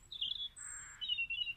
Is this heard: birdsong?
yes